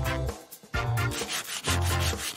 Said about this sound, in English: we need a nail file. Give me your hand and watch your nails shine up.